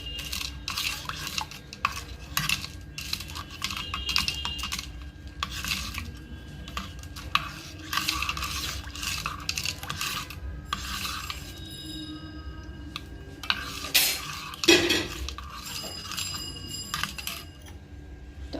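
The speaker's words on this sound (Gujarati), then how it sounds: "આ રીતે આપણે ગોળ સાકર લીંબુ ત્રણે હલાવી મિક્સ કરી લેશું સારી રીતે ઓગાળી લેશું" Jaggery, sugar and lemon are stirred into bael sharbat, giving a long run of quick spoon clinks and scraping against a vessel, fairly faint, with a few sharper clanks near the end and no speech.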